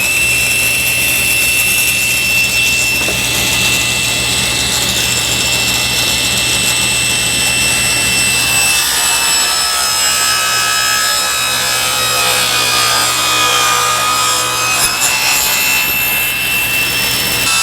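Table saw bevelling the sides of a wooden beehive top bar with a push block and zero-clearance throat plate: a loud, steady whine and hum runs continuously, with the blade's grinding cut through the wood sustained throughout and no talking.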